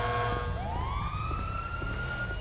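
Police car siren in the FiveM video game rising in a wailing sweep over a steady low engine drone, loud and continuous with no talking.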